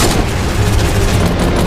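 Gunfire and booming impacts in the video game Fortnite, a loud, dense barrage of shots that rolls on continuously through the short stretch.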